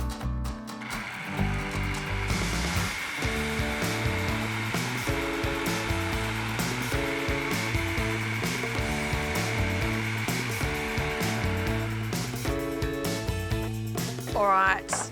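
An electric blender grinds macadamia nuts into nut butter with a loud, steady motor whir that pulses and labors rhythmically as the thick paste churns, stopping near the end.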